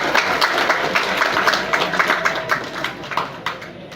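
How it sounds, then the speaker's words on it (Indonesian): A crowd of high-school students claps for the student council at a school gathering, a sustained patter of many hands with individual claps standing out, loud and close, fading slightly toward the end. "Tepuk tangan untuk OSIS."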